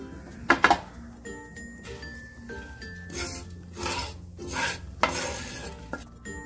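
Fennel and sesame seeds scrape and rattle against a hot clay griddle as they are stirred, with gentle sizzling and occasional clinks, no voices.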